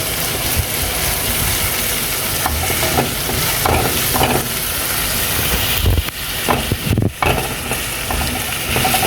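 Onions fry in butter and oil in a pan, a steady close sizzle with occasional stirring scrapes and no talk.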